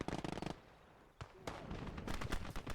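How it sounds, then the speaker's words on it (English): In the Gates of Hell war game, a grenade goes off amid a busy battle, a sharp blast landing among rattling bursts of gunfire and crackling shots, all fairly faint and distant. "there's a guy laying on that foxhole, so I am going to throw a nade there"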